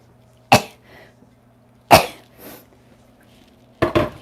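Three sharp, explosive bursts of breath, each sudden and close, spaced a second or two apart, the last a quick double burst; sounds like sneezing.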